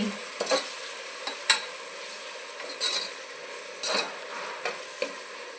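Ginger garlic paste being stirred and fried in a pan for egg biryani: a soft sizzle runs underneath while a spoon scrapes and taps the pan in irregular strokes, close by, with no talking.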